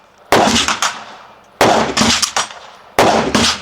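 Three suppressed shots from a Taurus TX .22 pistol fitted with a Banish suppressor, each a sharp crack with a short ringing tail, spaced about a second and a half apart.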